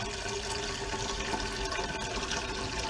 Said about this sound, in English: I got a kettle here, and I'm just gonna put some water in there. I'm gonna let that fill up.